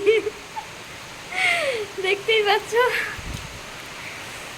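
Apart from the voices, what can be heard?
heavy rain during Cyclone Remal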